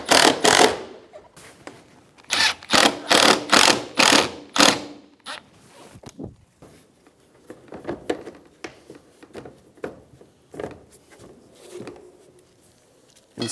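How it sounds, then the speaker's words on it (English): A ratcheting screwdriver drives Phillips head screws into the front valance of a 2013-2017 Honda Accord, with loud rapid bursts of clicking at first, then quieter scattered ticks and scraping, close up. "Install your Phillips head screws."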